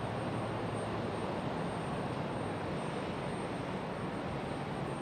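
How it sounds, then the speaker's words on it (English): A Delta Airbus A321 jet taxiing at Raleigh-Durham airport, a steady broadband engine rumble and hiss holding at constant level throughout, fairly distant with no voices. "got a Delta A321 on the move"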